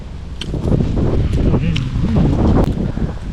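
Cold wind blowing outdoors, a rough gusty rush buffeting the microphone, with a voice talking underneath throughout.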